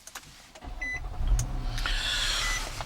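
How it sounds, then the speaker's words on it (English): A 2009 Nissan Maxima SV starting via push button: soft clicks and a short chime, then the engine cranks and catches, settling into a steady close idle with a faint high whine. "and hit the push button start"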